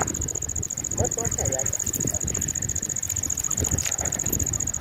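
A steady, high-pitched cricket trill runs unbroken through the whole clip at night, with people talking close by over it.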